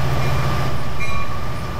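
A Roblox train's bell rings steadily with a bright repeating tone over a constant low rail rumble, close and fairly loud for a brief moment, with no talking.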